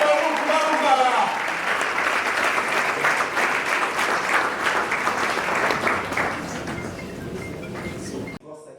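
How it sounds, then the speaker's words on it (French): Audience applause at an awards evening, a full sustained round of clapping from a sizeable crowd that gradually fades before cutting off abruptly, with voices mixed in. "Des applaudissements dignes de femmes, s'il vous plaît, pour Farouk Maroubara."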